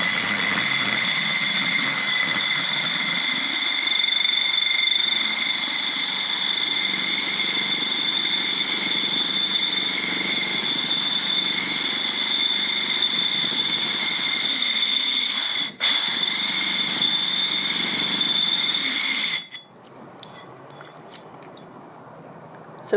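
A power drill bores a hole into a large ceramic plant pot with a steady, high whining grind that runs for about twenty seconds before cutting off.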